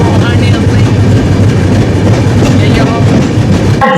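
The Mumbai Mail at Dhanbad railway station makes a loud, constant rumble of rolling wheels with steady rail clatter throughout, close and dense.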